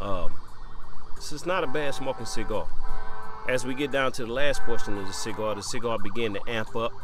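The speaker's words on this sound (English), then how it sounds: "Sirens around here, you hear those a lot." Emergency vehicle sirens outside wail and sweep up and down repeatedly in the background, while someone talks loudly over them.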